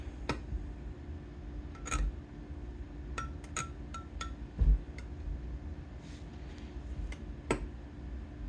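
A bait mixture for Dragon's Breath lures is stirred in a small container, giving sparse, light clinks and ticks at irregular intervals over a low, quiet background, with one duller knock midway.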